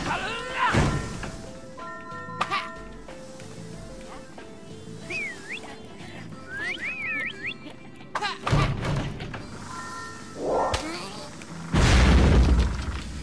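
Explosions in the video game The Last Tinker City of Colors, several loud booms and bursts spread over the stretch amid busy game music and effects, with a heavier blast near the end.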